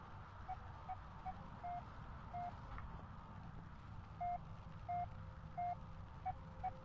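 Faint Morse code beeping from radio speakers in the game Penumbra Overture: clusters of short and slightly longer tones with pauses between groups, over a constant low droning background, no voices.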